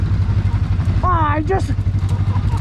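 An Outlander ATV engine runs in low 4x4 with a steady, throbbing low rumble and clatter, close and loud, while someone talks briefly over it.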